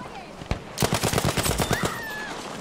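Sten submachine gun firing in Battlefield 5: one sharp shot, then a rapid burst of about a dozen close, loud rounds in quick rhythm, fading with a faint whistle at the end.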